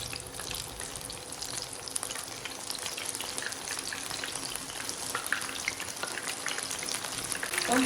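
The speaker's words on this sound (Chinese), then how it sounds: "面糊裹好以后，给它放入油锅里面，油也不要烧得太热" Battered enoki mushrooms deep-frying in moderately hot oil, a dense, even crackling bubble that holds steady and close throughout, growing slightly louder toward the end.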